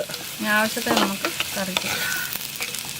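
Onions sautéing with salt in a pan for a Kerala prawn theeyal: loud, close sizzling with stirring scrapes, while someone talks over the cooking.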